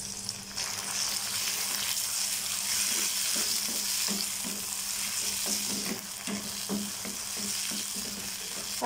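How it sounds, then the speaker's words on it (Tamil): Chopped ripe tomato sautéing in hot oil with softened onion and garlic for an aubergine kara kuzhambu, a steady close sizzle and crackle with soft stirring scrapes throughout and no talk. "தக்காளி வந்து நல்லா வதங்கணும்."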